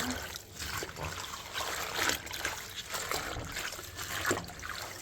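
Water sloshes and trickles continuously as collard greens are swished around in a sink filled with lukewarm water, close and fairly quiet, with no talking.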